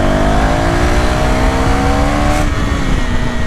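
Engine of a 2026 KTM Duke 390R motorcycle revving loud and close, a continuous aggressive roar whose pitch climbs steadily across the run.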